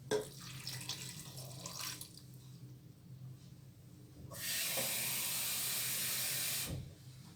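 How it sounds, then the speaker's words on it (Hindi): Water poured from a glass into a cooking pot for a chicken and garlic-powder mixture, a loud splashing pour lasting a couple of seconds midway, with quieter kitchen clatter and trickling before and after, no talk. "दो ग्लास हम इसमें पानी शामिल करेंगे"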